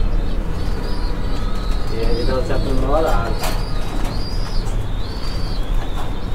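Magpie pigeons coo in a loft, their low rolling calls rising in the middle amid a steady background hum, while someone talks over them.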